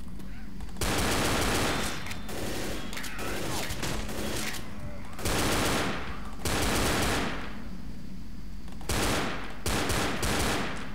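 Bursts of gunfire in the zombie shooter Left 4 Dead, several loud rapid volleys separated by brief pauses, with the player's voice faint in places.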